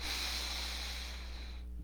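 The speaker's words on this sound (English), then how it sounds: "Just a good deep breath." One long, deep breath drawn in close to the microphone, airy and steady, then fading out, with no talking.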